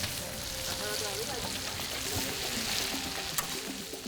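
Massive pan of paella made with bomba rice sizzling and frying in Southern Spain, stirred with a paddle, a dense steady crackle with faint scraping and background voices.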